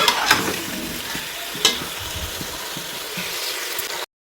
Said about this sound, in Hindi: तो इसी तरीके से हम इसको भूनते रहेंगे